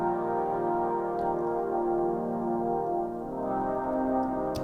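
A sustained analogue pad from a Juno synthesizer playing on its own, a warm, steady chord with rich layered harmonics that shifts smoothly to a new chord midway.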